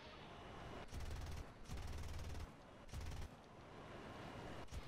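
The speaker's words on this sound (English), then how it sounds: "as you see, the four cannons shooting." Four aircraft cannons fire in War Thunder over a steady engine roar, three distinct rapid bursts of heavy gunfire, each under a second long, near and loud.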